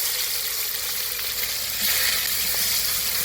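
Chopped tomato and tempering spices hitting hot oil and caramelized sugar in a pan for a Bengali vegetarian dish, giving a loud, dense, continuous sizzle close by.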